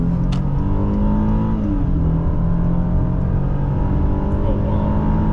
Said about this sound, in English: we're gonna see how this Genesis gets up to speed